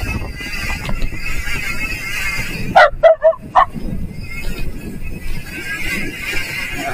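A dog barks in a quick burst of several loud yelps while chasing a motorcycle on a solo ride through a rural barangay, cutting in over steady engine and road noise.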